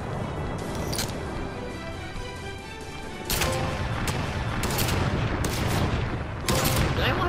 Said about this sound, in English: it's an automatic assault rifle